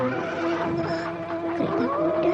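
Horse-drawn carriage drawing near as the horse neighs and whinnies loudly over a steady, dense background of rumbling and layered tones.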